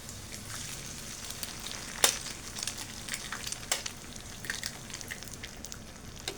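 A pan hisses with a soft, steady sizzle while filling for fried martabak is stir-fried, with occasional crackles and one sharp pop.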